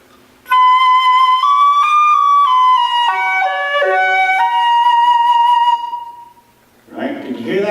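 A flute plays a short embouchure exercise without correction, a clear, airy sequence of sustained notes stepping up and then down, followed by a brief burst of talking at the end.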